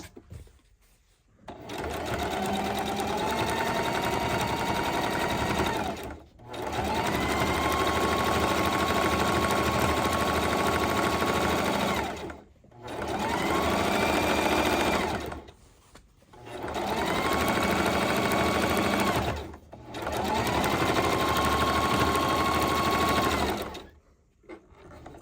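A sewing machine stitches a homemade dryer mat in four long bursts of steady motor whir, separated by brief pauses, close and loud with no talk.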